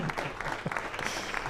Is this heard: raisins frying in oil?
no